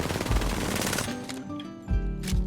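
Rapid automatic gunfire from a recoil test in Apex Legends, two loud sustained bursts with a brief gap between them, dense and close with no talking.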